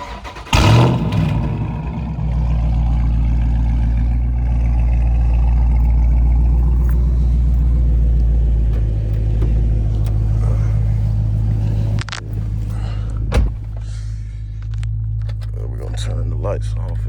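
A Dodge Daytona's engine warm-starting with a sharp crank and catch, then settling into a loud, steady, deep idle rumble close by, with a brief blip near the end and a voice talking over it.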